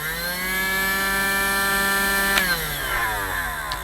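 A Bosch Unlimited cordless toy vacuum cleaner by Theo Klein runs with a loud, steady electric whir and harmonic whine that dips and shifts pitch near the end, close up and without talk.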